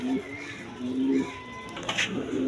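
A pair of big-size chocolate-coloured GNS pouter pigeons cooing close by: low, drawn-out repeated coos with a short, brighter burst near the end, over quiet room noise.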